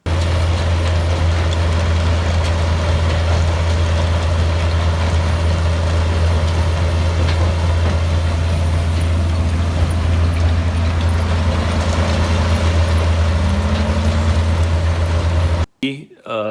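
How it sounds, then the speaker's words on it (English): A mobile hydraulic jaw crusher crushes B-scrap with a loud, steady diesel drone and rough grinding that continues unbroken, then cuts off abruptly at the end. "Here you can see our mobile hydraulic jaw crusher."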